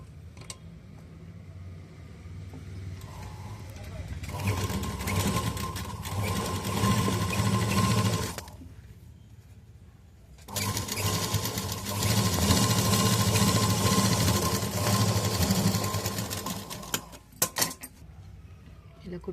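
Sewing machine stitching the V-neck of a school uniform, two long steady whirring runs close by with a quiet gap between them and a few clicks near the end.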